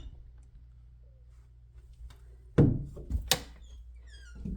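A door in a fixer-upper house being opened, a quiet room hum followed by a sharp thunk of the latch and a couple of softer clicks and knocks, close and brief.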